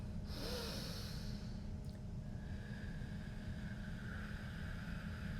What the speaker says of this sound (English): As you exhale, imagine that you are cooling off coffee.